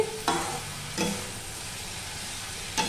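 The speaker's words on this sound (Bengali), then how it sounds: "গ্যাসটা একটু বাড়িয়ে দিলাম, বাড়িয়ে এটাকে ভালো করে নেড়ে," A curry of chital fish bones fries in a pan and is stirred over raised gas, giving a constant close sizzle broken by three sharp stirring scrapes, with no voices.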